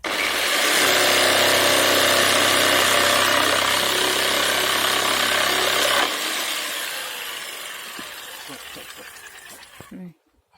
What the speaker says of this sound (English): I'm going to cut this pallet in half just for the sides.